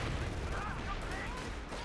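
Battlefield gunfire in Company of Heroes 2 during a World War II clash with an MG34 and Rangers, a dense, continuous rattle of shots and distant blasts blended into a rumbling wash, with a voice talking over it.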